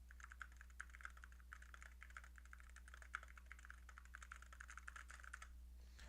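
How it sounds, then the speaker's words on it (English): Quiet typing on a computer keyboard, a rapid even clatter of light key taps heard through a gaming headset mic over a low steady hum. "I'm going to start typing on the keyboard so you can hear the background noise."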